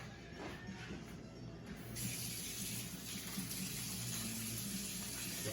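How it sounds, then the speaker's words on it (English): Water runs steadily from a tap into a sink during handwashing, a close continuous rushing stream with slight shifts in flow and no talk. "First things first, I'm going to go wash my hands."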